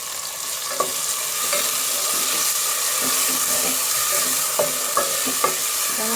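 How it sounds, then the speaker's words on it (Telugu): Tomatoes are frying in a pan for tomato bath, giving a steady close-up sizzle with bright hiss. Several sharp knocks come through as a spoon stirs and taps the pan. "ఇప్పుడు టమాటాస్ వేసేస్తున్నాను."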